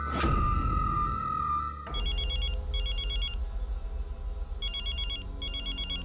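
A telephone bell rings loudly and close by in repeated bursts, each a rapid metallic trill, with short gaps between rings.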